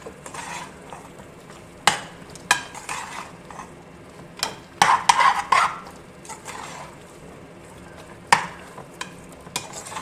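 Mutton and masala sauté in a pan for a north Indian style gravy, with a soft low sizzle under sharp spoon clinks and scrapes against the metal as the mixture is stirred, and no one speaking.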